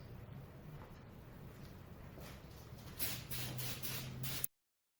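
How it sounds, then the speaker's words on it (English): Short hissing bursts of an aerosol carburetor cleaner spraying on a 1958 Johnson Evinrude 10 HP outboard carburetor, faint and close, a few quick pulses near the end before the sound cuts out. "spray it down with this stuff to kind of get this coating off"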